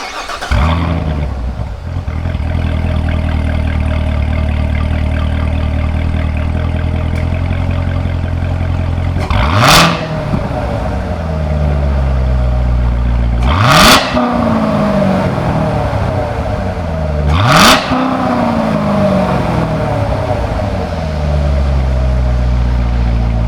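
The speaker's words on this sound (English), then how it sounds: "we're going to get it a little bit of a sound clip of just the idle and then also a couple revs" A C7 Corvette Z06 V8 with an AWE exhaust idles with a deep, steady rumble after a warm start, then revs sharply three times at even intervals, each rev dropping back to idle.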